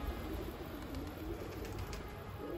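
Soft, repeated low cooing from pigeons in an outdoor pigeon-keeping setting, steady and moderately close over background hiss.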